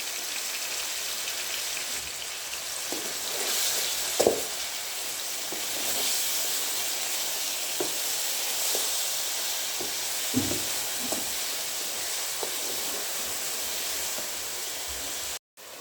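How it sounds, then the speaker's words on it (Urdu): Cubed eggplant and potato fry in a pan with steady, close sizzling and crackling, with scattered louder pops and stirring knocks throughout; no voices. "بینگن اور آلو کو ہم نے فرائی کر لیے ہے"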